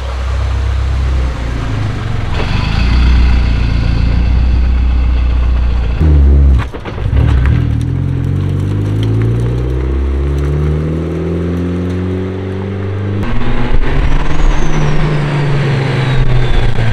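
A Nissan S15 accelerates on its first real test drive, its engine note rising steadily through long pulls with a brief dip and shift in the middle, loud and continuous from inside the car.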